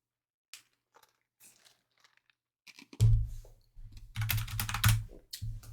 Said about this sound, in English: I can actually just type code interactively into the Python prompt.